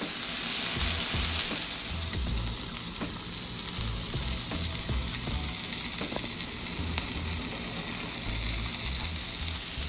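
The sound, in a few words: Japanese A5 wagyu steak sizzling while searing in pan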